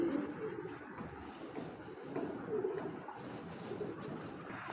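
Racing pigeons coo softly and repeatedly in low, rolling calls at a moderate distance, with a faint background hum and no talking.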